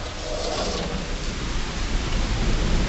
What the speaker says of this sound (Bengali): দেখো কেমন বৃষ্টি হচ্ছে, ভীষণ মানে জোরে জোরে বৃষ্টি হচ্ছে আর প্রচণ্ড আওয়াজ, তার সাথে ঝড়ও হচ্ছে